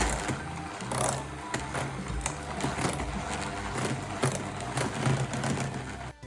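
An electric mixer whirs steadily, whipping cream for a tangerine tiramisu. The motor drone runs continuously and fairly loud at close range for the whole stretch, with no voices.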